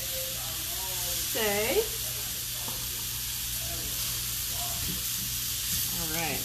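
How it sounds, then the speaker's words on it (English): Peppers and onions for skirt steak fajitas sizzle in a hot pan with a steady, close hiss while a person talks over it. "Now we're getting some color on these peppers and onions."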